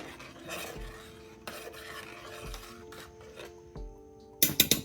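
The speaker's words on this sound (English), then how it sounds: "Turn the heat off, give it a stir." Spoon stirs egg drop soup in a pot on a stove with the heat just turned off, a quiet steady scraping swirl with a few louder clinks against the pot at the end.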